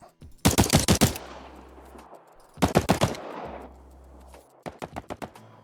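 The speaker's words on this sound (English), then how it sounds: "now you have a gunshot sound that sounds like it's traveling over distance" Three bursts of rapid gunfire, each a quick string of sharp shots followed by a long echoing tail, the last burst sounding farther away, as the gunshot travels over distance.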